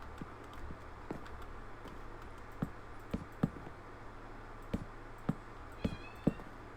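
Cat meows from a video game, a few short high calls near the end over a steady low hum and scattered clicks, fairly faint.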